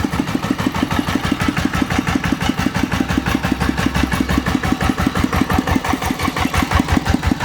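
Yanmar 120 DIY tractor diesel engine idling at a shop, a steady fast chugging close by, loud and even throughout with no voices.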